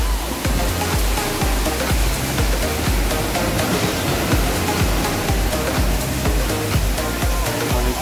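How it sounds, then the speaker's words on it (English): A waterfall at Peechon Cove pours into a beach pool, making a loud, constant roar of rushing, splashing water that fills the whole stretch without pause. "This is a better view of the waterfall."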